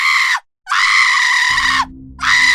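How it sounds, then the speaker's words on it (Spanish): A witch's scream in a Spanish-language audio drama: three loud, drawn-out shrieks with a strained, harmonic quality and short pauses between them, with a low rumbling drone rising beneath the second half. "la bruja gritó"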